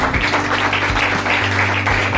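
Congregation applause for mothers during a Mother's Day church sermon: a sustained wash of clapping over low sustained keyboard or organ tones, steady and fairly loud for a couple of seconds.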